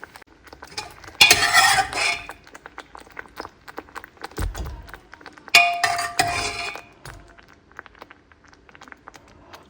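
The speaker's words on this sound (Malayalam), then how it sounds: "ഇനി നമുക്ക് നമ്മുടെ വേവിച്ച് വെച്ചിരിക്കുന്ന ചേമ്പ് ഇതിലേക്ക് ഇട്ട് കൊടുക്കാം." Cooked colocasia pieces go into a pot of simmering curry with two loud bursts of clinking and scraping against the metal pot, separated by quieter stirring knocks and soft bubbling.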